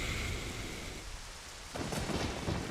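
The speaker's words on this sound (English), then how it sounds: "listen to the sound of the gentle rain and thunder" Steady rain with low thunder rumbling from a stormy scene in the video game Zelda: Ocarina of Time, a continuous wash of rainfall that swells louder near the end.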